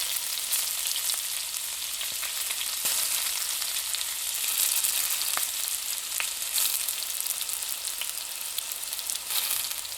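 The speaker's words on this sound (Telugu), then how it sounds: "సన్నగా తరిగి పెట్టుకున్న ఆనియన్స్ని కూడా వేసేసి లైట్ గోల్డ్ కలర్ వచ్చేంత వరకు డీప్ ఫ్రై చేసుకోవాలి" Thinly sliced onions deep fry in hot oil for egg biryani, giving a continuous dense hiss with occasional faint pops, steady and close, with no one speaking.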